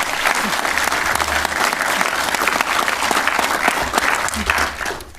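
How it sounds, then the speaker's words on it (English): A crowd at a Drupal community awards ceremony gives the organisers a sustained, loud round of applause, many hands clapping steadily throughout before it tapers at the close. "Can we get a round of applause for the organisers, Julia and the DrupalSouth Splash Awards team?"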